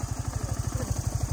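A motorcycle engine putters steadily and close while riding on the back of the bike, its low rhythmic pulses repeating evenly throughout.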